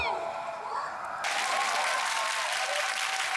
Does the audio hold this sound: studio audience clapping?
yes